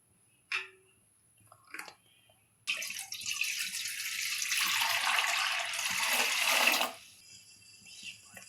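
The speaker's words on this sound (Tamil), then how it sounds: "அதுல நமக்கு தேவைக்கேத்த அளவுக்கு தண்ணி ஊத்திக்கலாம்" Water poured from a vessel into a kadai on a lit stove while cooking Maggi noodles: a steady, close splashing pour lasting about four seconds after a couple of brief clinks, then fading to quiet.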